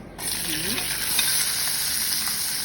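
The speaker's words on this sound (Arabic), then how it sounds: "راح احمس الكشمش" Raisins sizzle steadily in a hot pan while being fried for an Iraqi tajine, a continuous close hiss with faint stirring scrapes and no talking.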